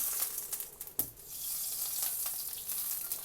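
Ghee sizzles steadily on a hot frying pan while a paratha is being made, a soft continuous crackling hiss with one brief sharp pop near the start.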